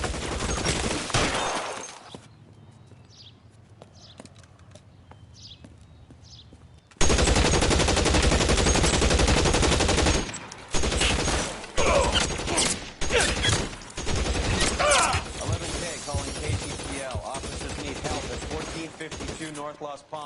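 Dense bursts of rapid gunfire and repeated shots break out during a police emergency in a horror-themed scene, first a quieter stretch with faint chirps, then loud sustained volleys and scattered cracks continuing to the end.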